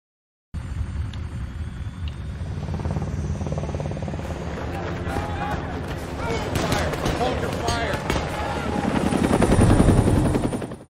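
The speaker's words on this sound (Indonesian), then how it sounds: "pihak berwajib yang datang terlambat tidak bisa menghentikan helikopter mereka" A helicopter's thudding rotor and engine roar fill the clip, swelling louder toward the end, with bursts that resemble gunfire mixed into the din.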